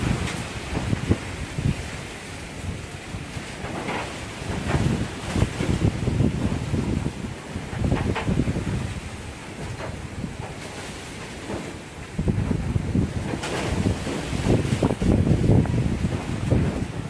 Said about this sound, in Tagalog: Yun, malakas na hangin guys.